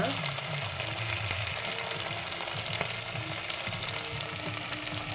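Rice sizzles and fries in hot ghee in a pan, a steady crackling hiss with continuous stirring and light clatter throughout.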